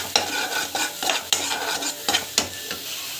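Raw plantain and vegetables are sautéed with asafoetida and salt in a pan, with repeated sharp scraping stirs of a utensil in an irregular rhythm over a soft, constant sizzle, close by and without talk.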